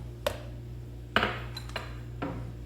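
A spoon scrapes and taps against a bowl while erythritol and stevia sweetener is spooned in, giving three short, separate clinks over a steady low hum.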